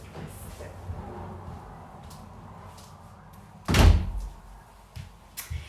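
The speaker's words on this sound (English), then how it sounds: "Hang on, I'm just gonna close the door." A door is shut indoors, giving one loud, close thud with a short rumble after it, standing out against a quiet room background.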